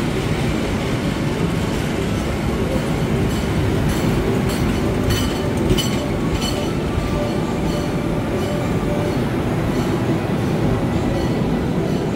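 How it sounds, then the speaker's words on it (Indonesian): A train arriving at Cirebon Prujakan station rumbles steadily nearby, a low continuous roar of wheels on rails with faint rhythmic clacking and occasional higher metallic squeals. "Kereta api menoreh sudah masuk di jalur 2 stasiun Cirebon Perujakan."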